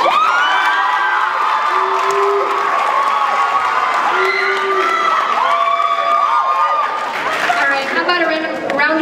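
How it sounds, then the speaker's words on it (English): Audience at a school Shakespeare Night performance of Macbeth cheering and whooping loudly at the end of the show, a dense sustained crowd roar with shouting voices over it for the whole stretch. "how about you guys give us a round of applause?"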